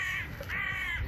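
Jackdaws over the citadel at Bitche, two harsh caws close together, loud and near against faint background noise.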